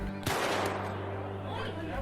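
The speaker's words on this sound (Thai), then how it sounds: "เสียงปืนที่ดังขึ้นหนึ่งนัด" A single sharp gunshot cracks out, followed by a lingering echo that fades over a low, steady droning background.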